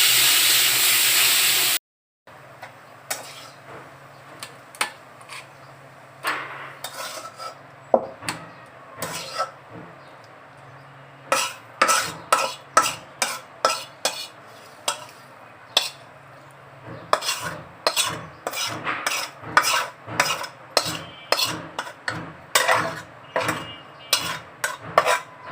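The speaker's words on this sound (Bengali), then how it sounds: "শুকনো মরিচ আর রসুনটা হয়ে আসছে, এখন আমি শাকটা ছেড়ে দিব।" Greens being fried with dried chilli and garlic in a pan, with a run of sharp metal spatula scrapes and clinks over a soft hiss, close and steady.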